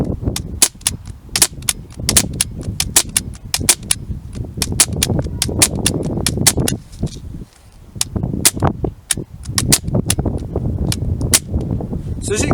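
A Sig Sauer 516 4.5mm CO2 air rifle fires a long run of sharp, close shots in rapid, fairly regular succession, with only a brief pause near the middle.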